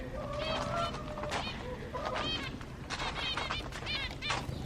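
Many finches in an aviary chirp and twitter in rapid, overlapping bursts close by, a busy chattering chorus with faint background noise.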